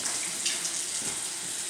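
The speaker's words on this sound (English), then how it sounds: "Run the water, so then the water gonna get a little warm." Tap water runs steadily into a basin for warming before fingernail care, a continuous close hiss and gush with no speech.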